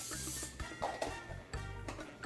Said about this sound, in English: I'm gonna go ahead and coat that with cooking spray.